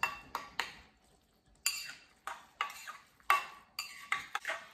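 A utensil scrapes and clinks against a container while tuna is stirred and mixed, producing quick, close repeated scraping strokes in a quiet kitchen with no talking.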